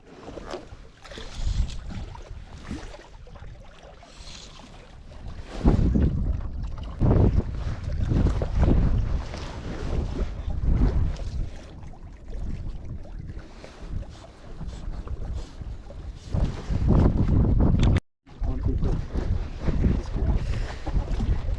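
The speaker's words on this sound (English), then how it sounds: "The wind makes it a little more difficult." Wind gusts buffet the microphone outdoors during a fishing trip, a steady low rumble with stronger surges and one abrupt brief dropout near the end, with no talking.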